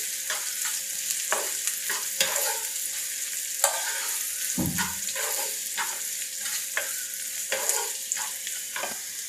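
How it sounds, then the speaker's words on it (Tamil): Onions fry in a pan with dried chillies and curry leaves for Chettinad mutton varuval, a continuous crackling sizzle broken by repeated scraping stirs of the spatula, close and fairly loud. "2 கொத்து கருவேப்பிலை இலை சேர்த்துட்டு வெங்காயத்தை வந்து நல்லா வதக்கிடுங்க"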